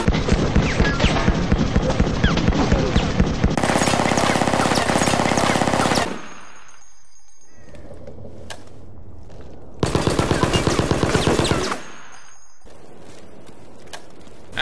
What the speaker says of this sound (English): the tactical SMG has a different sound glyph of firing